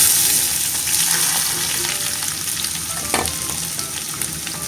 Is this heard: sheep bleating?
no